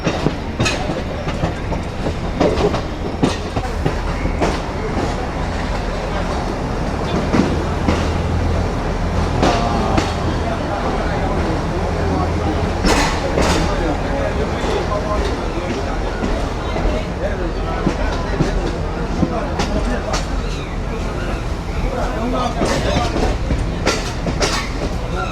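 Train rolling along the rails of a Yangon railway line, heard from on board with steady rumble and repeated clickety-clack wheel beats throughout; people talk at times over the noise.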